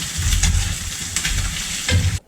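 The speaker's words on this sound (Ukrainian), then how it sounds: "Не забуваємо про цибульку і помішуємо її." Onions fry in a pan as they are stirred, a close, loud sizzle with several scraping strokes of the utensil before the sound cuts off at the end.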